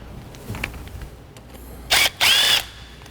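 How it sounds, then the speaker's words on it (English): A power drill runs in two short bursts, about half a second and then a bit longer, backing out Torx head screws from a Hellcat supercharger. Light handling noise comes before the bursts, and no one speaks. "I'll take this off, and it's just 4 Torx head screws that hold this on."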